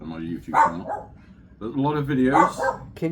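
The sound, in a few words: dog barking in a video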